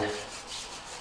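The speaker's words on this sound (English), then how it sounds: "just a quick degrease and scrub down" Quiet, brief rubbing and scrubbing as Honda trim pieces are scrubbed down to degrease them, a soft, continuous abrasive swish close by.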